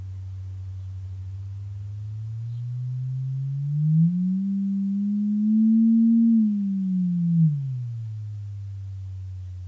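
A steady electronic tone glides smoothly upward in pitch, holds near its peak, then slides back down, continuous and fairly loud with no voices.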